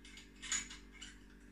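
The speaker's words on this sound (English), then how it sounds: "the first thing we need to do is to unscrew the valve cap" A brass instrument's valve cap being unscrewed by hand, giving faint, close metallic scraping and small ratcheting clicks of the threads in a quiet room, with no voices.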